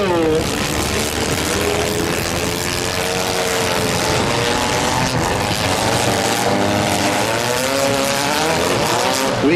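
Several stock compact race cars roar past together in a heat race, engines droning loud and steady with rising and falling pitch, no pauses.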